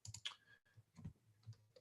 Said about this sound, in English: I'm typing into the chat right now